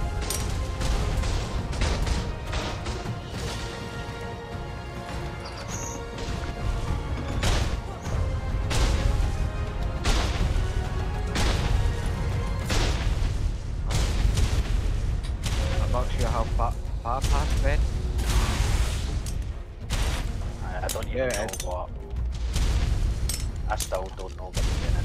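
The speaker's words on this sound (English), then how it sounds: "There's a lot of grenades falling down" Grenade explosions and gunfire during a PvP battle in the video game ARK, a dense, loud barrage of repeated blasts and shots running continuously throughout, with voices talking over the fighting.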